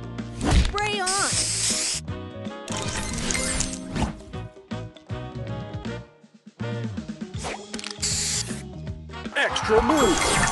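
Two bursts of spray hissing from a video game, one early and one late, cut through lively game music and clattering sound effects.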